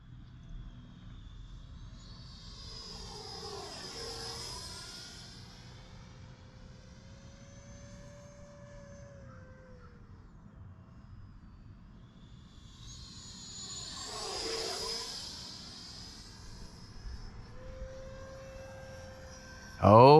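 An Arrows RC Viper 50mm EDF model jet makes two low passes, its ducted-fan whine swelling and sweeping in pitch as it approaches and recedes, with a faint steady hum between passes and a sharp clatter at the end.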